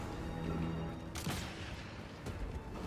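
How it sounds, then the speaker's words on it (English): Two sharp gunshots in Sniper Elite 5 crack out about a second apart over a dense, steady background of game noise. "Gunshot heard."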